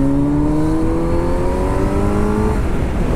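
Kawasaki Z900 motorcycle engine ridden on a street, a loud close engine note climbing steadily in pitch as it accelerates for about two and a half seconds, then easing off, with road and wind noise beneath.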